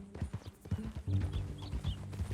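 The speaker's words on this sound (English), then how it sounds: "That a new horse?" Horse hooves in Red Dead Redemption 2 clip-clop in a steady walking rhythm, close and clear, with faint tack rattles and quiet voices alongside.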